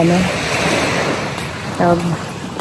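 Sea waves washing onto the beach at Sandals Jamaica, a close, steady surf rush with wind across the microphone, while a person talks briefly at the start and near the end.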